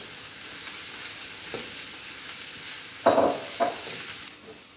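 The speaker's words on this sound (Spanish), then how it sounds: "Los vamos a sofreír aquí hasta que estén suaves." Mushrooms sauté in a hot pan for a black rice dish, a soft steady sizzle broken by a few louder bursts of frying and stirring near the end, close and with no talking.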